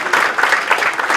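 An audience at a film screening bursts into loud, dense clapping, a brief close wash of hands without voices.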